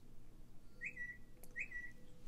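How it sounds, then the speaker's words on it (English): A phone located by a SUNU Band gives two short rising whistles about half a second apart, fairly faint over a quiet room. "Do you hear that whistling? That is my phone."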